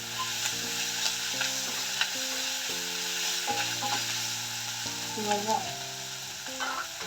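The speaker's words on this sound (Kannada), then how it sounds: "ಸ್ವಲ್ಪ ಶುಂಠಿ ಬೆಳ್ಳುಳ್ಳಿ ಪೇಸ್ಟ್ ಹಾಕೋಣ. ಚೆನ್ನಾಗಿ ಫ್ರೈ ಮಾಡ್ಕೊಬೇಕು" Ginger garlic paste frying with onions in a pan for aloo sabji, a continuous bright sizzle under tonal background music, with occasional stirring scrapes and a brief word spoken.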